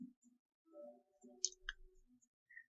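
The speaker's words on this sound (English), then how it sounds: "We're going to click on that." A computer mouse button gives a single soft click while a file-sending button is pressed, faint and close, with a few quiet low bumps and rustles in an otherwise hushed room.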